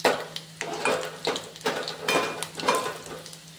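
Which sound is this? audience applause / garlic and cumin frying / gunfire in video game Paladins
garlic and cumin frying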